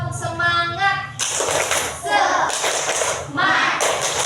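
Indonesian Islamic studies class doing a rhythmic clap chant with their teacher, loud bursts of group clapping alternating with voices chanting in patterned rounds.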